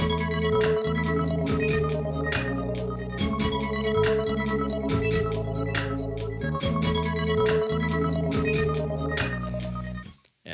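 An XT2 Sounds SampleTank loop plays at 70 BPM, a dense, steady groove of sharp rhythmic hits over sustained low bass tones that repeats for about ten seconds before cutting off abruptly.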